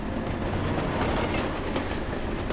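A train rolls past in the Ozarks, a loud continuous rumble with rhythmic clickety-clack of the wheels on the rails, close and steady, with no voices.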